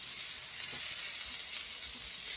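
Chickpeas fry in a pan with salt, turmeric and cumin, giving a steady, even sizzling hiss with no voices.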